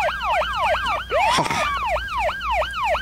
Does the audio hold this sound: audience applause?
no